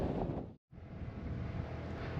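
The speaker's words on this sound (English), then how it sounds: "I'm gonna get off Madison because it is very windy and cold" Loud, blustery, cold wind on the summit of Mount Madison in the Presidential Range roars across the microphone with heavy low rumble, interrupted by a momentary dropout, then continues buffeting steadily.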